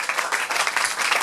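Congregation at a Sunday church service applauding and cheering for the Lord, dense steady clapping with bright rhythmic bursts filling the room, close and loud throughout.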